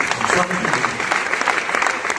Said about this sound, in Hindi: एक बार मुझे पुनः अपनी तालियों से आगे